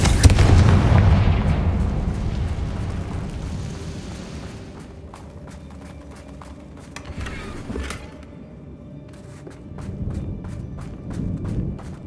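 A Confringo spell from Hogwarts Legacy bursts into a heavy explosive boom at the start, rumbling and fading over several seconds, followed by scattered quieter impacts and crackles as game ambience continues.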